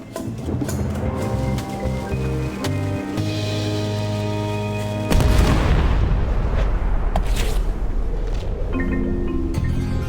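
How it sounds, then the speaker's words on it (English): A musical passage in the video game Return to Monkey Island gives way to a loud burst of ship cannon fire, followed by booming, crackling blasts and rumbling, with music returning near the end. "Ready for cannon firing."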